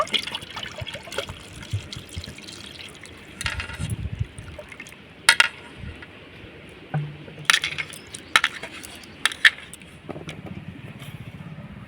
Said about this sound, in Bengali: এবার আমি কালো আঙুরগুলোকে ধুয়ে নেব